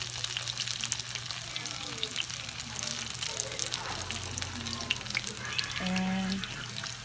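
Chayote patties frying in about two cups of cooking oil as they are flipped, giving a steady, close, continuous sizzle with faint crackles throughout.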